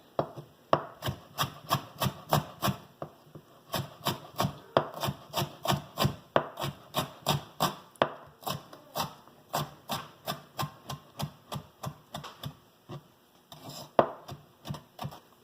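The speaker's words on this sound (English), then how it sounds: "Turn it and chop it the other way." A knife chops a jalapeno on a cutting board with steady, rapid strokes in quick runs separated by brief pauses, close and clear with no voices.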